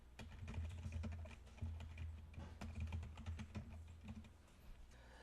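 Quiet, steady keyboard typing as code is entered on a computer keyboard while writing CSS and Bootstrap markup, with rapid close keystrokes and brief pauses.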